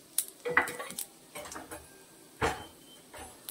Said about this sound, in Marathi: तसं त्यात जिरेही मी भाजून घेत आहे.